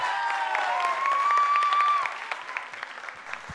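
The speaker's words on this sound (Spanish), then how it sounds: "¡Venga, ese aplauso fuerte!" Loud audience applause and cheering at a live vallenato music show, dense and sustained over lingering music tones, then easing slightly while it continues.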